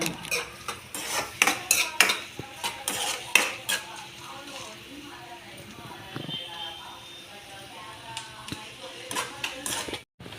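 Pasta is fried in a pan with onions and little oil, stirred with a metal utensil in quick rhythmic clinks and taps against the pan that fade to softer scraping, while people talk.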